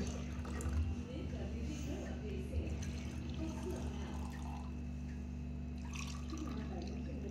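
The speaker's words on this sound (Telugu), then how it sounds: "అన్నిటిలో కొంచెం కొంచెం ఇది పోసుకోవాలన్నమాట" Mojito mixture is poured a little at a time into four glasses, giving soft liquid trickles and drips beneath a continuous low hum, while people talk over it.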